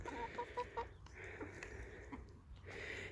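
A rooster in a hen run gives several short, close clucks in quick succession early on, then softer scattered clucking over a low background murmur.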